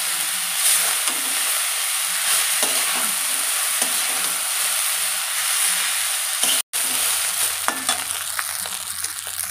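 Boiled chowmein noodles are tossed and stir-fried in a hot pan with egg, giving a loud continuous sizzle and hiss with repeated scraping and clattering strokes throughout, plus one brief drop-out.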